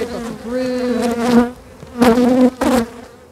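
Honeybees swarm over a beehive frame full of brood and leftover stores, giving a close, loud, droning buzz that swells and fades in several distinct bursts, with no talking.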